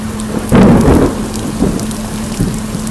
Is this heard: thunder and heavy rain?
yes